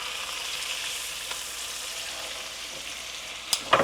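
Tomahawk ribeye steak sizzles steadily on a hot grill, a soft continuous hiss and crackle, with a couple of brief clatters near the end.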